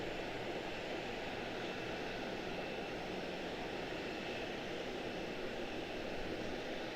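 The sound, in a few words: airliner performing a go-around at Charlotte airport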